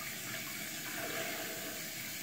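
A tap runs hot water to wet a rag for wiping off leftover makeup, a steady, close, even rush of water with no pauses and no talking.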